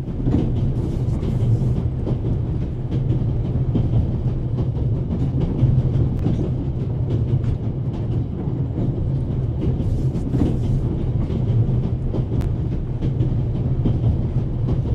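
Train rolling along rails in the game The Raven – Legacy of a Master Thief, a steady continuous rumble with low drone and faint rhythmic clatter, sustained and even throughout.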